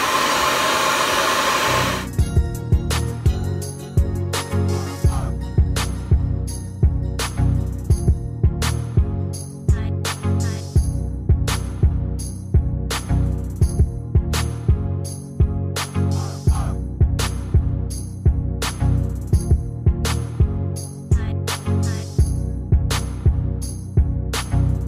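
A handheld hair dryer blows steadily on texlaxed hair, its loud whooshing airflow repeatedly pulsing and dipping in a regular rhythm as it is moved, with no voices over it.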